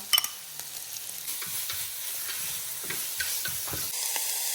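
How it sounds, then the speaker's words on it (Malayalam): Crushed ginger and garlic sauté in a hot pan for mussel pepper roast, a soft hissing sizzle with scattered scrapes and knocks from stirring, fairly quiet and close, no voices. "ഇതൊന്ന് നല്ല ചൂടായിട്ട് നമുക്കൊന്ന് വഴറ്റണം"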